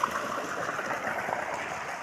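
Irrigation water runs into a chickpea field on a farm after a month without watering, a steady close gushing and trickling with no pauses and no talk.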